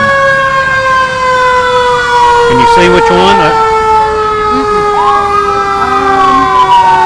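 Fire truck from a county fire department in a Christmas parade, its siren wailing loudly and steadily with rising and falling tones, while someone talks over it.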